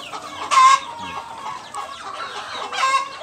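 Rhode Island cross hens clucking at feeding time on a poultry farm, with two louder bursts of calls standing out over a steady background of farmyard fowl noise.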